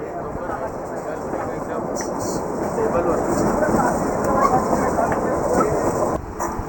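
The Kalka–Shimla toy train runs with a continuous rumbling roll and faint rhythmic clatter of wheels on track, heard from on board at close range, with some background voices.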